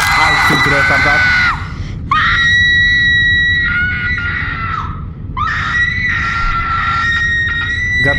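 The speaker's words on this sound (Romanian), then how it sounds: "Gata, soro, nu mai țipa, te rog eu." A girl screams in long, piercing bursts separated by short gaps, loud and close, with shrill sustained tones rising and falling across the outbursts.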